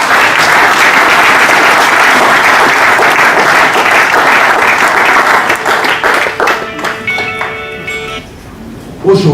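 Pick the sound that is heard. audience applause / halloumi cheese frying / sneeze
audience applause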